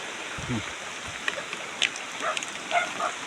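Steady rain falls outdoors as a continuous hiss, with a few brief sharper sounds on top and a faint low sound early on.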